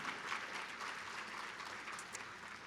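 Faint, diffuse clapping from a conference audience, a soft continuous patter heard at a distance for a few seconds.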